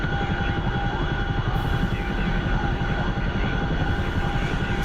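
Steady, loud rotor drone of a Chinook tandem-rotor helicopter in flight in a video game, a dense continuous roar with pulsing low thump and constant tonal whine, no voices.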